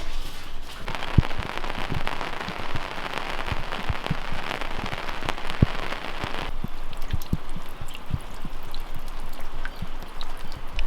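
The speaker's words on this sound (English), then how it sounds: "It's a rainy day" Rain falls steadily on a rainy day, a dense hiss of drops with sharp close taps on a nearby surface, the wash loudest at first and then thinning while the pattering continues.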